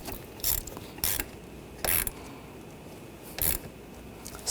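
Ratchet clicks tightening a hose clamp in the engine bay of a Buick Encore 1.4L during a water pump replacement; five short bursts of ratcheting, close and clear, no talk.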